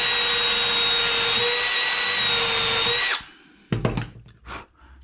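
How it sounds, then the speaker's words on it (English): A power drill fitted with an adjustable countersink bit pre-drills a hole in wood, giving a steady high whine for about three seconds before it winds down, followed by a few close clunks and handling knocks. "pre-drill it first with this drill that I've already adjusted the countersink"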